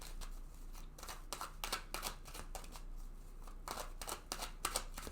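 Tarot cards handled and shuffled to draw one, a string of soft, close flicking and riffling bursts, quiet and intermittent with no talk.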